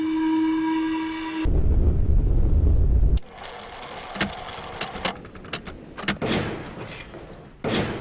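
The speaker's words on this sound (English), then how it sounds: "Door here." Door in the video game Myst, Selenitic Age: a sustained whistle-like tone gives way to a loud mechanical grinding rumble for about two seconds, followed by softer clanks and knocks.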